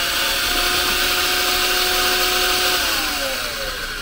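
An electric coffee grinder runs at a steady, loud whirring pitch, then the tone slides downward near the end as the motor begins to slow, with no talking.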